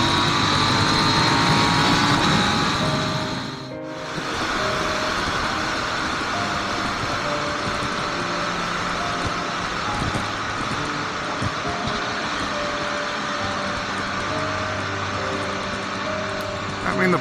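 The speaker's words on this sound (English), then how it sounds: "I mean, the bike revs up smoothly." A KTM Duke 890 R motorcycle engine hums with a steady droning tone, dips briefly as the throttle is eased, then climbs back and holds an even, close note with wind-like rushing noise.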